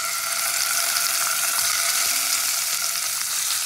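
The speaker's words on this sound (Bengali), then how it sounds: "মাছটাকে আমি একটু ভেজে দেবো হালকা করে" Fish frying lightly in hot mustard oil in a wok, a steady, dense sizzle that holds close and even throughout with no talking.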